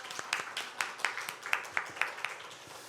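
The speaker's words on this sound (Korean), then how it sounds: "우리 박수로 환영하도록 하겠습니다" A small church congregation claps in welcome for visiting school friends, a faint, evenly spaced run of a dozen or so hand claps heard alone in a quiet room.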